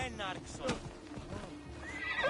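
A horse in the video game Assassin's Creed Odyssey gives a sharp neigh and whinny over clip-clopping hooves, close and loud, with a voice talking over the sounds.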